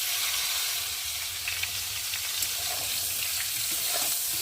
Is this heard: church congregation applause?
no